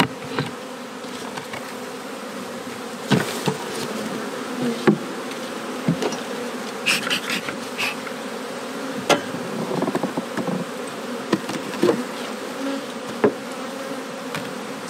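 Honey bees buzz steadily throughout an open-hive colony inspection, a dense droning hum with occasional louder individual bees passing close and small knocks of frames being handled.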